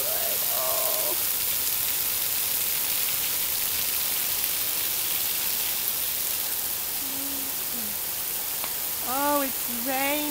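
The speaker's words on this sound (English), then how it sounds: "Oh, it's raining." Steady rain falls as a continuous hiss throughout, with a person's voice and some bird-like chirps briefly over it near the start and end.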